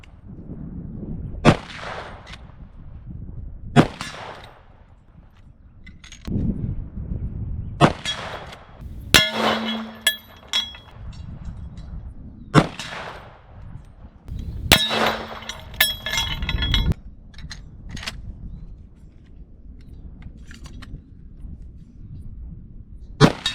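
A Marlin .45-70 lever-action rifle fired repeatedly outdoors, several sharp loud reports spread unevenly through the stretch, some with metallic clangs or rings after, and quiet handling noise between shots.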